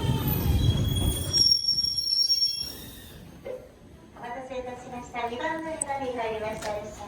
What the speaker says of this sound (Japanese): 日吉普通列車が到着しました。